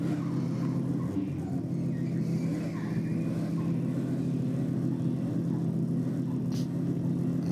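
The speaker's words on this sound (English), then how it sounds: "We've got another Falcon up against the Honda." Ford Falcon and Honda drag racing at Sydney Dragway, a continuous loud engine roar with a deep low rumble holding steady, heard at some distance without any voices.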